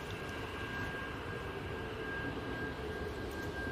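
A TUI airliner arriving at Manchester Airport on a windy day, its engine roar steady and broad throughout, mixed with gusty wind noise, fairly close and without talk.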